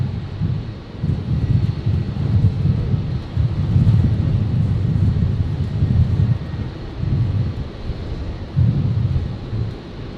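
An airliner taking off from Brisbane's runway 19 right gives a deep, rumbling low roar that pulses and churns steadily for about ten seconds, distant and heavy, with wind noise and no voices.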